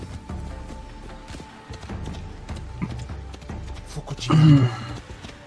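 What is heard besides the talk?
horse hooves clip-clopping in a video game trailer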